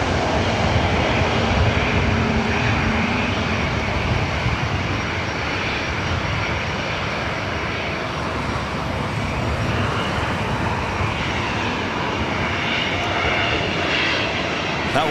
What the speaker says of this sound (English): That was Southwest Airlines Flight 2652 coming in from Oakland, California, 737-700.